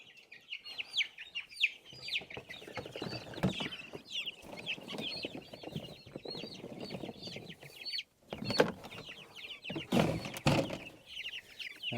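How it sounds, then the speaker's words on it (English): A crowd of chicks being loaded outdoors chirps and clucks constantly, a dense, busy chatter of many small birds with bursts of rustling handling noise. "There's a handful of chicks."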